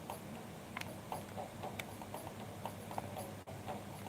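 Horse hooves clip-clop at a steady walking rhythm in the Suikoden video game, soft and regular over a low background hum, with no voices.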